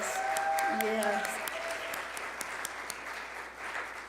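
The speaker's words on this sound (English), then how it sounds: "let's give them all a round of applause" A crowd applauds steadily, the clapping starting loud and gradually thinning, with voices and a few cheers mixed in.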